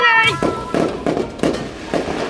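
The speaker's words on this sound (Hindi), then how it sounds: "पोपो पटाखे, ये देख ऐसे फोड़ते इसे" Small pop-pop firecrackers, the kind thrown down to burst, crackle in four or five sharp bursts spaced about a third of a second apart, following a voice at the start.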